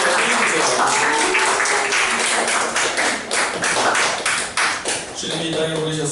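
A church congregation claps steadily during a celebration in the service, with dense, close applause filling the room and voices speaking over it near the end.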